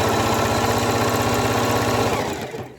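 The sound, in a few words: sewing machine stitching ribbons together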